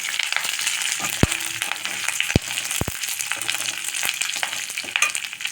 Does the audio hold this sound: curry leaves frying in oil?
yes